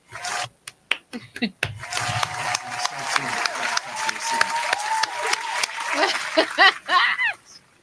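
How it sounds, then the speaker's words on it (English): Applause rings out on a talk show as Marcus Jordan, known as MJ, is welcomed: a few sharp claps at first, then a steady run of clapping with a voice speaking over it. "I'm clapping for you"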